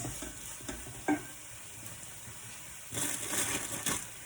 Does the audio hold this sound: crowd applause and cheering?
no